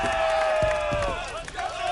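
A Philadelphia ballpark crowd in the video game MLB The Show 25 roars for a home run, a dense continuous wash of cheering with a thin whistle-like tone running through it.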